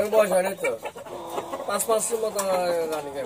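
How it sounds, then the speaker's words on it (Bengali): Several young chickens of mixed breeds cluck and squawk close by on a farm in overlapping bursts, with a few sharper calls breaking through the steady clucking. "খামারে অনেক জাতের মুরগি আছে"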